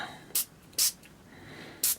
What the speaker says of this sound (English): So I'm going to take some of that spray Dilutions, and it's called Black Marble. And I'm just going to spray these black.